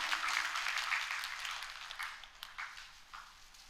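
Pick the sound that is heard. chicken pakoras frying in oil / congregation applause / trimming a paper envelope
congregation applause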